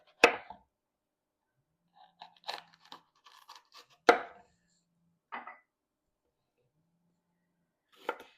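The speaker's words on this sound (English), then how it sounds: "Now you're going to want to chop half a green pepper." Half a green pepper is chopped on a board as a few sharp, separate knife strikes with short crunches, spaced irregularly with quiet gaps between them, close and fairly soft.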